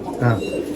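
A single brief, close pigeon coo inside a pigeon loft, a low throaty murmur heard with a voice talking at the same time.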